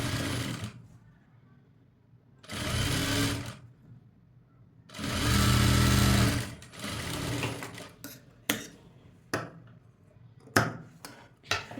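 Sewing machine stitching piping onto a cutwork blouse in three short, loud runs separated by quiet pauses, followed by scattered clicks and handling knocks.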